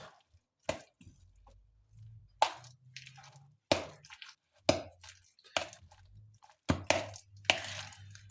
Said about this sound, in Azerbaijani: Və yaxşıca qarışdırırıq.